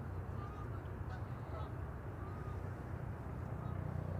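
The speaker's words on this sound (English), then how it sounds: "also some geese. I don't know if you can hear them, but they're making a bit of a racket." Geese honk in a noisy chorus somewhere in the distance at an airport, half-buried in steady low rumble and background noise.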